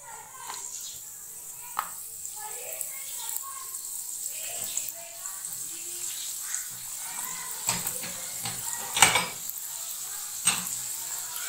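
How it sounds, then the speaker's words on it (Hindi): Luqmeya dough frying in hot oil over a medium flame, a steady soft sizzle with occasional louder pops and crackles, a few sharp bursts near the end, with no talking. "अब हम इनको फ्राई करते हैं।"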